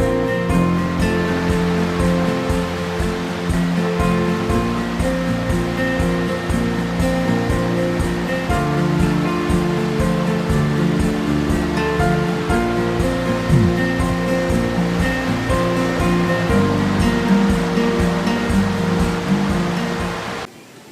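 River swollen high after rain, rushing steadily at a campsite with a dense, unbroken roar that stays constant and close throughout, with no voices.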